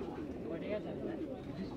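Pigeons coo softly in a low, rolling murmur amid a busy crowd at a pigeon market in Bangladesh, with people talking in the background.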